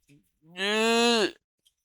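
A single long, drawn-out cow moo from the video game Albert and Camille's Little Lille Adventure, loud and clear with a steady tone that trails off, preceded by a short faint sound and no talking.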